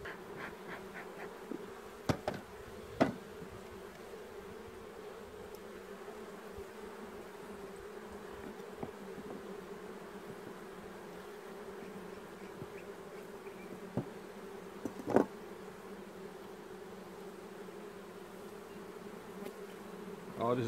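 Honey bees buzz continuously around an open hive during an inspection, a steady, soft droning hum with a few brief louder knocks and handling noises.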